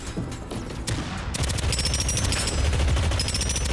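Gunfire from a gun in the roguelite FPS Deadzone: Rogue, a rapid automatic burst of close, loud shots that rattles on continuously with no talking.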